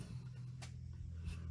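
A pen or marker strokes an X onto a wooden board in a storage garage, two quick faint scratches in an otherwise quiet room.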